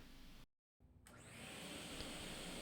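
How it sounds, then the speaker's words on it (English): A shop vacuum sucking up sawdust at a workbench by a miter saw: after a brief silence it starts up with a rising whine, then settles into a steady, close, loud hiss and drone. "see if that will suck up the dust a little better than falling into the bucket"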